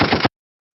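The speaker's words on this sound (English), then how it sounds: "Man, bring out the gunshots." A single short, loud gunshot sound effect bursts and cuts off abruptly, followed by silence.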